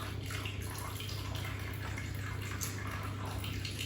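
Water pours steadily into a bowl of couscous, a continuous faint splashing trickle with no breaks.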